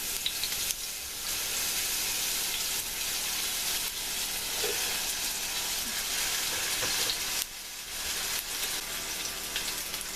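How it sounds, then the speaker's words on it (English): Big chunks of onion hit hot simmering oil in a pan and sizzle with a steady, dense crackle throughout, broken by occasional stirring scrapes and no talking. "now that my oil's starting to simmer, I'm going to add these onions that I cut up into big chunks"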